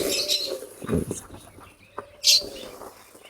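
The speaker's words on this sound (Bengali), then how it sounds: "মুরগি কবুতর সবই একই সাথে খায়" Chickens and pigeons feed together in a farmyard, with soft clucks and brief chirps among scattered pecking and rustling, some louder bird calls partway through, and a voice heard intermittently.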